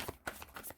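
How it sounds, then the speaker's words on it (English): A quick riffle of tarot cards being shuffled, a few soft flutters and slaps close by, with no talking. "Can we just start the shuffle?"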